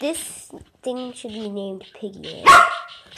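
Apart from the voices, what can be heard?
dog barking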